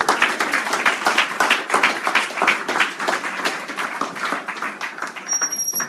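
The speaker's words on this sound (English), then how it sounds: "Give the Lord a round of applause." A church audience gives a round of clapping at a service, dense hand claps in an irregular patter that stays loud and continuous, alone without speech.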